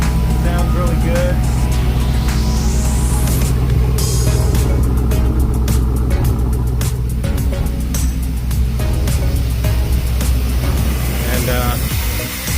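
A rebuilt car engine runs steadily at close range with a continuous low rumble and rattly mechanical ticking.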